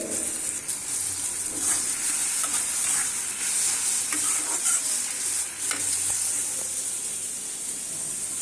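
Chopped onion fries in hot soybean oil with a dense, steady hiss and crackle, close up and loud, with occasional stirring scrapes throughout and no talking.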